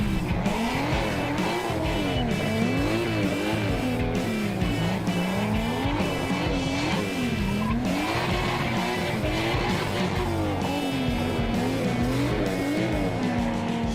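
Nissan Silvia drift car fitted with a turbocharged 2.5 litre straight-six from a Skyline, its engine revving hard and rising and falling in steady waves as tyres squeal through continuous slides, loud and close with no talk.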